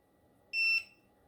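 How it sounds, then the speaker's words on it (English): Buzzer on the control panel of an AirLIFT Pro Seville Classics adjustable sit-stand desk, one short high-pitched electronic beep lasting about a quarter second, sounding clearly over a quiet background. "when you hear the buzzer sound, limited height canceled"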